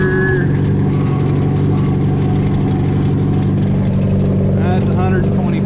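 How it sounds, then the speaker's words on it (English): A John Deere tractor runs at a steady, loud idle with a constant low engine drone, while its pump is put in gear, with speech over the engine noise. "Throw my pump in gear."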